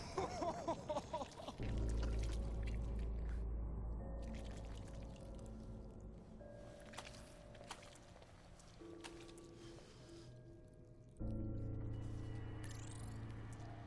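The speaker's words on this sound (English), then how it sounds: "A stone podium then vomits on Anu." A stone podium in a Borderlands video game vomits, with a loud gushing, splashing pour of liquid that stops abruptly, then a low sloshing drone and a second surge of gushing near the end.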